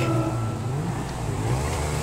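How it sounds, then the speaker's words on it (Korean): A car engine in Grand Theft Auto V drones steadily at a loud, even level, its low hum holding without pause. "자 차 소리 하지 마세요."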